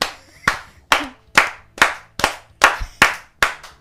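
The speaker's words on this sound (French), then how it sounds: "Je voulais applaudir Claire en fait." A single person claps slowly and firmly, about nine sharp claps at an even pace, loud and close in a room during a Bible quiz event, with no voices.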